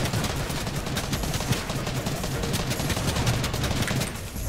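Rapid gunfire from a Fortnite 1v1 fight between a controller player and a keyboard-and-mouse player, dense and continuous with overlapping shots and sharp bursts throughout.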